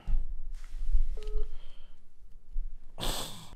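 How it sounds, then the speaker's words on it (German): A phone call is placed during a live stream, with a brief electronic dial or ring tone surrounded by close rustling and breathing noises, followed by a short burst of loud noise. "Ich rufe mal Jaluse an"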